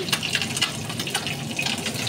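Sauce pours steadily onto freshly cooked chicken Alfredo pasta, a close, continuous wet gushing and splashing for about two seconds with no talking.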